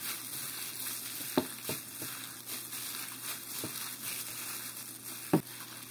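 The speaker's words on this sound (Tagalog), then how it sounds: "Much better ho kung kakamayin na lang natin ang paghalo para mas mabilis mag-well combine ang ating mga sangkap" Skinless longganisa mixture is mixed by hand in a bowl, giving soft, steady squelching and crinkling with a couple of sharper clicks, close and fairly quiet, with no talking.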